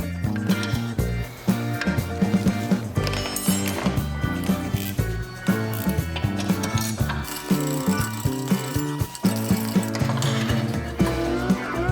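A ratchet wrench loosens the rear brake caliper bracket bolts on a 2011-2017 Honda Accord EX, giving loud, close, rapid mechanical clicking that runs nearly nonstop throughout.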